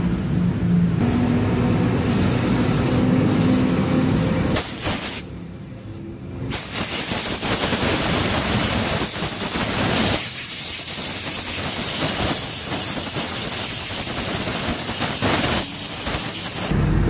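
Aerosol cleaner hisses in long, loud bursts onto an engine part of a Yamaha NMAX scooter, with short pauses and changes in tone between sprays.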